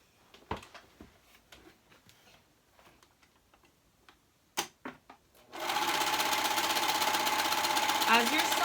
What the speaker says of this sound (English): now I'm going to go ahead and serge this, and that will be your top